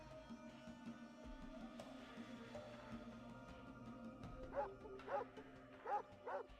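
Dog, the companion dog in the Fallout 2 video game, gives a run of about four short barks near the end, over steady game music and ambient hum.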